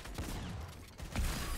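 Rapid automatic gunfire from a sprayed weapon in a frantic trio match of an online shooter game, a dense continuous burst with a heavier thump near the end, loud and close with no talk over it.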